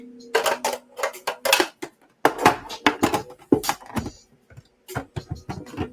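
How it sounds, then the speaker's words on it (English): Food being chopped on a kitchen counter during meal prep: a quick run of crisp, close knife taps against the board in uneven bursts, with brief pauses between them. "So now I'm about to start chopping this up."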